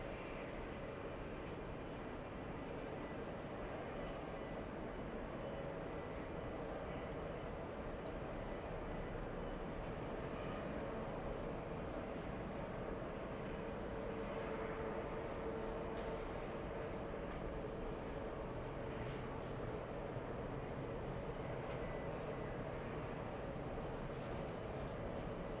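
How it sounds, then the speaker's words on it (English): An Airbus A340-300 arriving from Frankfurt at Los Angeles airport gives a steady, broadband jet roar that holds at moderate level throughout, distant and continuous with no voices. "A340-300 flying in from Frankfurt."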